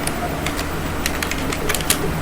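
Keys are tapped on a keyboard while writing in a word processor, a run of quick, light clicks in irregular clusters over a steady background hum, close and moderately loud.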